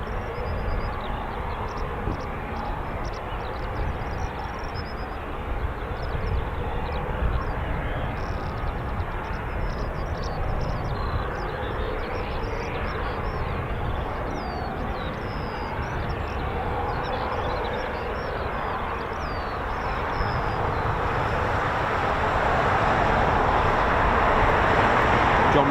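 A US Air Force MC-130J Commando II turboprop drones at an RAF airbase, a broad steady engine roar from a distance that swells louder toward the end.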